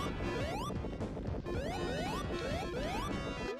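A constant earthquake rumbles and crashes in Sonic Jam on the Sega Saturn, with loud repeated crashing bursts and rising synthetic sweeps over a dense, continuous game soundtrack.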